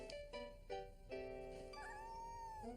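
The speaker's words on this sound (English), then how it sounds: "It's a kitten!" A kitten gives a string of short, high meows, then one longer, rising meow, close and clear with no talking.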